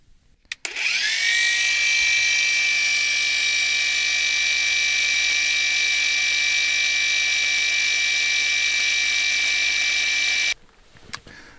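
A handheld power tool shaving wood at high speed in a forest cabin, a steady loud high-pitched whine that starts abruptly, holds for about ten seconds, then cuts off into quiet.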